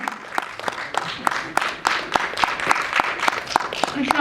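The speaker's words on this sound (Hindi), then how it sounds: "So a big round of applause for Ramakant Munde ji" An awards-ceremony audience applauds with a burst of sharp, rhythmic claps that repeat steadily over a few seconds, close and fairly loud, with a little crowd murmur beneath.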